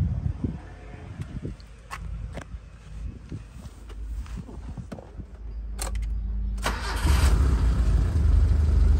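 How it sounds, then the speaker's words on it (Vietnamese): Mitsubishi Jolie 2005 with a 2.0 engine starting up: clicks and rustling, then the starter cranks and the engine catches, settling into a loud steady idle close by. "bây giờ thì em sẽ nổ máy và cho các bác xem về phần máy của chiếc xe Joyli này nhá"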